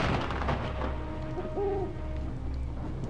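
An owl in the video game Wolfenhain gives a single short hooting call midway, over a dense, rumbling game soundscape.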